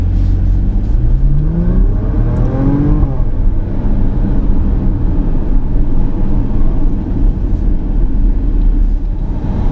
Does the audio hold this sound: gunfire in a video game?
no